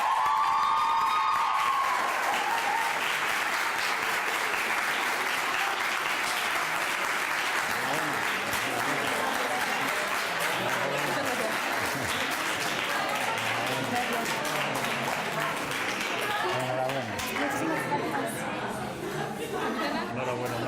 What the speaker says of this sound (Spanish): un fuerte aplauso para el Colegio Monte Alto